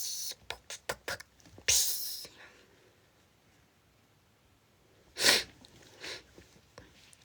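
A person snorts snot in a series of short, sharp sniffs and snorts, then a loud wet snort and a couple more brief nasal bursts, close by, without talk.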